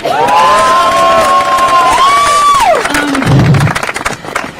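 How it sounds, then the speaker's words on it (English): A crowd at a vigil for Khalil Azad cheers and whoops loudly for a few seconds, with a long rising and falling shout standing out over the steady roar of voices. "So give her a big round of applause."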